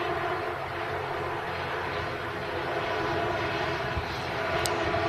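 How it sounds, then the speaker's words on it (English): Aer Lingus ATR turboprop arriving from Belfast, heard as a steady, fairly loud broadband engine roar that holds through the clip and swells slightly toward the end, with no talk over it. "Erlingus ATR arriving in from Belfast"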